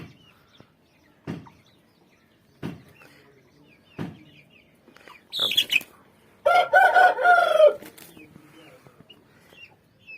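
An Aseel cross rooster calls out close by, with a few short clucks and scuffling thumps, then a loud harsh crow of about two seconds, while someone speaks briefly.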